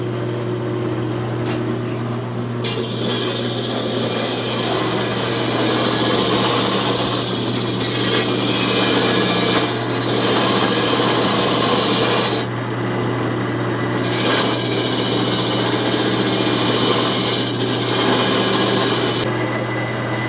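A pan being buffed by hand gives a steady, loud rasping rub that runs continuously with short pauses and small changes in stroke, close up with no talking.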